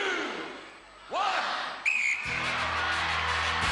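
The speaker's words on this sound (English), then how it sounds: "Celebrities, you will go on my first whistle." A referee's whistle sounds from about 1.8 seconds, signalling the start of a celebrity pursuit race on a 1994 Gladiators UK television show, followed by a burst of loud arena crowd cheering and music.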